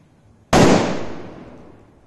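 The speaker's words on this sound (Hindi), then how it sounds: "यहाँ पर बहुत ही बड़े साइज के एकदम टाइटली पैक्ड सूतली क्रैकर्स हैं" Large, tightly packed Classic Green sutli firecracker detonates in a single sharp, loud blast, followed by a long fading echo outdoors.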